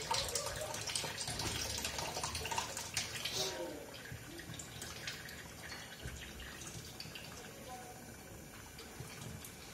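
Water splashes and trickles steadily out of an inline RO purifier filter fitting, louder at first then settling into a thinner flow, with a voice speaking briefly.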